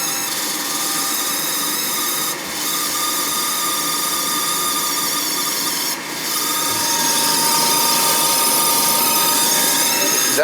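A noisy Ruud gas furnace runs with a steady, loud broadband rushing and rasping hum, dipping briefly twice before carrying on unbroken.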